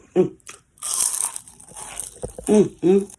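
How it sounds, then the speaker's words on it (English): Crispy fried food bitten and chewed up close, with several loud crunchy bites and crackling chews between bursts of talk from the person eating. "I'm chewing and talking"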